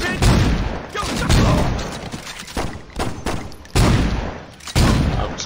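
Loud video-game gunfire from Saints Row, heard as repeated close bursts of shots in a rough, uneven rhythm with short gaps between volleys.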